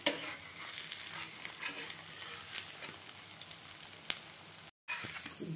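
Wheat roti cooks in oil on a pan, a soft, continuous sizzle with scattered faint crackles and a short silent gap near the end, with no talking.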